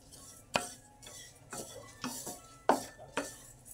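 Oats roasting in a pan while being stirred, a series of about eight scraping strokes with a utensil against the pan at a slow, even pace, close and fairly quiet.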